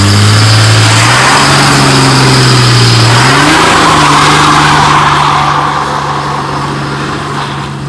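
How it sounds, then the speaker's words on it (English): A 2005 Cummins diesel pickup truck does a big burnout, its engine roaring loud and close, the pitch stepping up as it revs hard, with a broad hiss of spinning tyres that eases slightly toward the end. "for this next one, we're going to see if we can do a big burnout"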